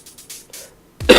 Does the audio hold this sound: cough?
yes